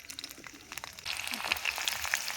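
Chopped onion dropped into hot oil and ghee in a kadai, a sizzle that swells to a loud steady hiss with scattered pops, close by and without talk.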